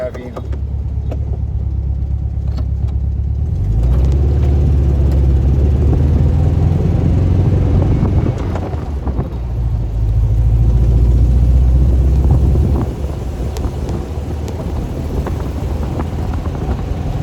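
A car engine drones steadily in second gear at residential speed, a loud, low rumble that swells twice as the driver accelerates and then settles back, with no talk heard.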